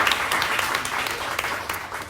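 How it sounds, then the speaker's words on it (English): Brief audience applause at a book launch event, a steady patter of clapping from a modest crowd, tapering off at the end. "Round of applause."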